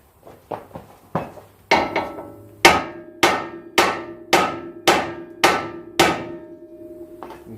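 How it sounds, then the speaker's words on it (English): A hammer knocks on a metal tab to free a tapered shaft during CV axle work on a 1997 Honda Civic. The blows are sharp, ringing and metallic, starting with a few light taps and building to about eight heavy, evenly spaced strikes. "We're going to knock this right here on this tab with a hammer, and it's going to free up this tapered shaft."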